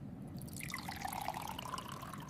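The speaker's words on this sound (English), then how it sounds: "Now fill the burette with the standard solution." Standard solution poured into a burette during an acid–base titration, a soft continuous trickle of liquid with a rising filling tone, close and fairly quiet.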